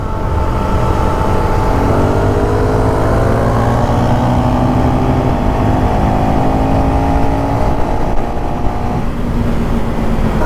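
A motorcycle engine screams at high RPM in fifth gear, a loud steady drone whose pitch climbs slowly and then drops near the end, heard close and constant throughout.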